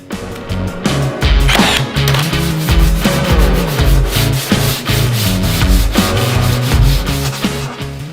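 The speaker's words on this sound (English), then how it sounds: "using a cabinet scraper is amazing for removing excess glue squeeze out" A cabinet scraper dragged across wood to remove excess glue squeeze-out, in loud repeated rasping strokes with sharp knocks between them, close up and steady for the whole stretch.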